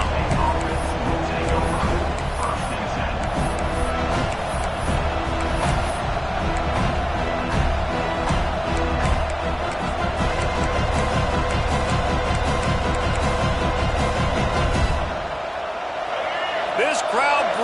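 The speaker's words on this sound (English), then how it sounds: "This crowd bringing the energy and noise early." A packed stadium crowd at a Florida State versus Florida college football game roars with a dense, sustained wash of cheering and shouting. Talk can be heard through the noise, and the roar drops slightly near the end.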